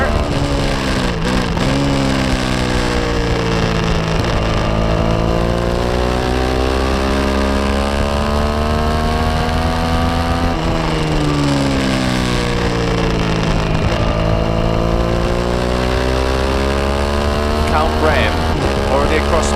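Racing motorcycles from a Standard Twins race sweep past at Donington GP circuit, loud engines rising and falling in pitch through several passes, with a commentator talking over them throughout.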